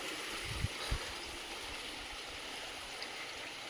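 A freshwater stream in the hills near caves flows with a faint, steady rushing wash, broken by a couple of brief low thumps near the start.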